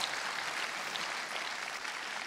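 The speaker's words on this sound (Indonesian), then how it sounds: "tepuk tangan dong untuk Wage Rudolf Supratman" Applause from an audience honoring Wage Rudolf Supratman at an Indonesia Raya celebration, a steady dense wash of clapping that holds at even loudness throughout with no talk over it.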